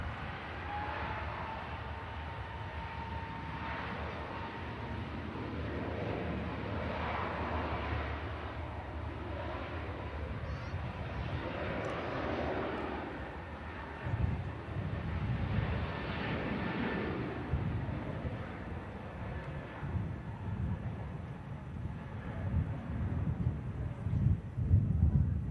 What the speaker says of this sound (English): Here we go, Turkish A321 Neo.